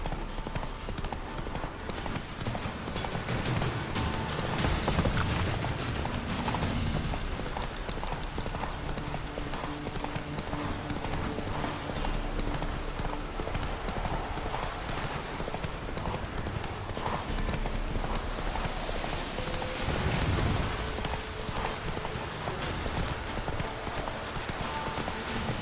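Roach the horse gallops in The Witcher 3, a steady run of hoof clip-clops sounding close and continuous across the whole stretch, with a brief whinny-like touch and a low ambient game bed underneath.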